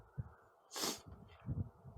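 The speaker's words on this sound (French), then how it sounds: "je risque de renifler de temps en temps durant la vidéo" A person with a slight cold gives a quick, breathy sniffle through the nose, faint and close, set between soft low rustling and breathing sounds.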